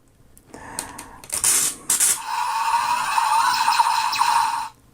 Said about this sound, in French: ça c'est le bruit de transformation